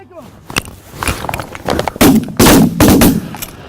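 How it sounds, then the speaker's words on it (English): Shotgun blasts during a New York goose hunt, several loud shots fired in quick succession outdoors, mixed with voices and shouting. "Nice shooting, guys."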